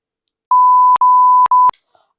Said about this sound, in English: I'll maybe blur or beep the name out of here